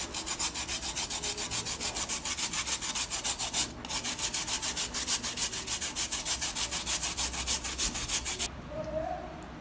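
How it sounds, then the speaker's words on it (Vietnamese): Beetroot grated finely by hand for a homemade lip balm: a steady, rapid run of close rasping strokes, loud and rhythmic, with one brief pause partway, then stopping near the end and leaving quiet room sound. "Tiếp theo chúng ta sẽ bào nhỏ củ dền này."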